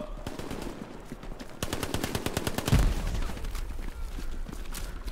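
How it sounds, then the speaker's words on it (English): Gunfire rattles through a Hell Let Loose battle, rapid machine-gun bursts with single cracks and a heavy thump midway, fairly close and dense with no talk over it. "Shots fired!"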